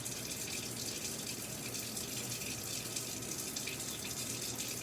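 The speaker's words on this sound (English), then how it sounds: "We're going to begin washing by rubbing our hands together, getting a nice lather." Tap water runs steadily into a sink during handwashing, a continuous broadband hiss and splash that stays even and fairly close throughout, with no voices.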